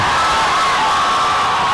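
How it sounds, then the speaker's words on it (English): A boxing crowd cheers and shouts during a bout, a loud, sustained roar of many voices with whoops rising from the arena. "Nice combination by Enriquez. Woke up that crowd."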